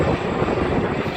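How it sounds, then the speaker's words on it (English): Broadband rotor and engine roar from helicopters flying over at an air day fills the air steadily and loudly, with no voices. "there's a couple of helicopters. Another 2 just coming up"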